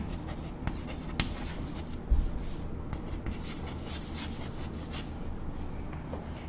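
Steady scratchy rubbing of a marker or chalk across a board during a statistics lecture, continuous strokes with a brief louder tap midway, close and moderately loud with no talking.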